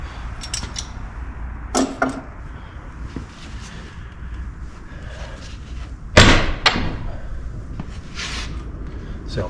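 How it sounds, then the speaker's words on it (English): A door is pushed shut and latched: a sharp clack and then a louder slam with a brief metallic rattle, close by against a low background hum. "Just let this door go here."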